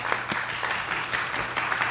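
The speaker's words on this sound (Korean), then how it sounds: "환영의 박수 드리겠습니다." Welcome applause from a church congregation at a Korean United Methodist Sunday worship service in Minnesota, a steady moderate patter of clapping with a faint low hum underneath, no talking.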